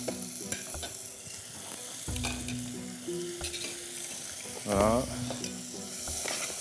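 Onions cooking in oil in a pan, with more oil added, sizzle steadily under occasional stirring and scraping clatter, with one brief spoken word near the end.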